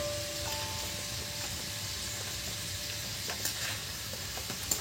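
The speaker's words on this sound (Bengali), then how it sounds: "আর এই যে ডাল ভাজা চলছে," Chana dal fries in hot oil for a crunchy dalmoth snack, a soft continuous sizzle with faint stirring clicks, close and quiet throughout.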